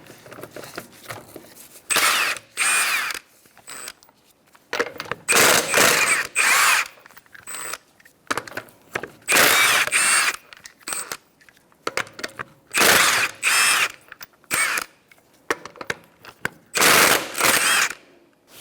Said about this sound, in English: Using a 21mm socket, we're going to take off our wheel.